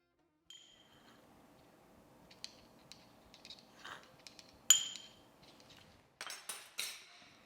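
Spoon scraping and clinking against a bowl as salt is mixed into thick homemade labneh, a run of close, irregular metallic taps and scrapes with brief pauses, no talking.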